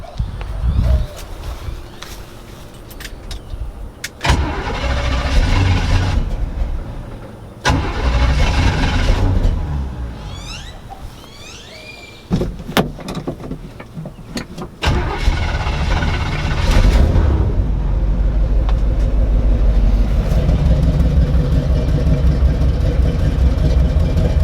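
A bagged pickup truck engine cranks and starts several times, with short bursts of loud running broken by pauses, then settles into a continuous, loud, steady idle, with birds chirping faintly in the background.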